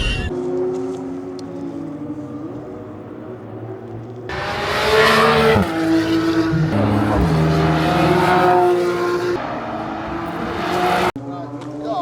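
Porsche cars driving on a race track, engines revving and roaring past at moderate distance with shifting pitch, while a person talks over them.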